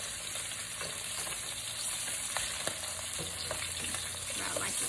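Salmon fillets fry in a hot pan with a steady, dense sizzle and scattered pops and spits, close and continuous with no talk.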